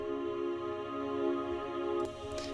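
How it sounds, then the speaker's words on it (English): Sustained choir pad from the Labs Choir free plugin, a steady held chord with no voices speaking, faint bright noise rising near the end. "which is the Labs Choir free plugin"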